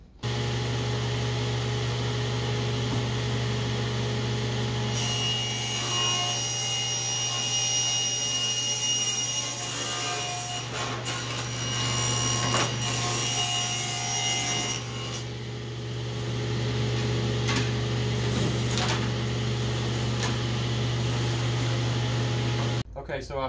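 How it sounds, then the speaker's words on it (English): Table saw cutting Lite Ply plywood blanks for a scratch-built RC plane fuselage, a steady loud motor hum with rasping wood-cutting passes rising and falling over about twenty seconds, mixed with some talk. "I've cut all of the Lite Ply blanks out over at the table saw"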